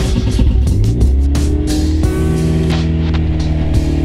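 A drift truck fitted with a new transmission drives along a road, its engine a loud, steady, droning hum with shifting tones heard from inside the cab, with no talking.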